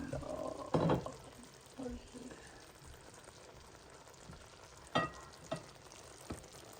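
Shakshuka cooking in a pan outdoors, giving a soft steady sizzle and bubbling with a few louder clanks and scrapes as the lid is lifted and the pan handled.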